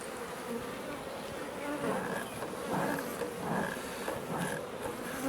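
A dense, steady buzz of honey bees fills the air close by during a beehive inspection, swelling slightly in waves with no talking.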